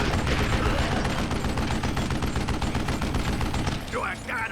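Rapid gunfire fills a Wild West shooter video game, a dense, loud burst of repeated shots against a zombie that thins out near the end as a voice briefly speaks.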